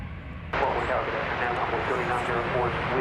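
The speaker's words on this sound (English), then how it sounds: "This is an American Airlines flight arriving from Mexico City." An American Airlines Boeing 737-800 arriving at DFW from Mexico City roars in suddenly after a quieter start, holding a loud, steady broadband jet rumble with a faint high whine, under a voice talking.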